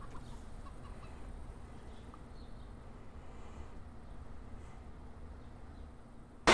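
Chickens in a video game cluck softly and repeatedly at a low level over a steady background hum, with no talking.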